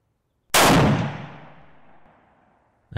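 A single sharp Kar 98 rifle shot with PPU ammunition cracks loudly nearby, its echo trailing off over a couple of seconds before another shot begins.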